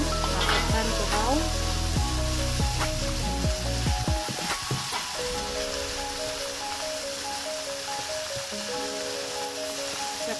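Tuhau being stir-fried with anchovies in a pan, loud steady sizzling with clattering stirs and some music playing over it.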